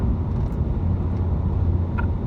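A 2015 Lincoln MKZ hybrid cruises on a freeway with a steady low road rumble and engine drone heard from inside the cabin, loud and unbroken.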